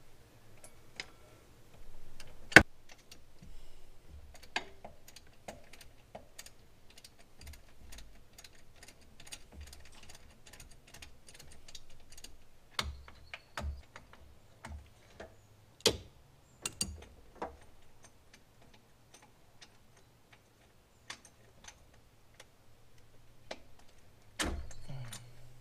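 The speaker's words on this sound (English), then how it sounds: "I got a big old ratchet and a 15mm socket" A big ratchet fitted with a 15mm socket clicks in short bursts of ticks while loosening a serpentine belt on a car engine, with sharp isolated knocks in between and quiet gaps.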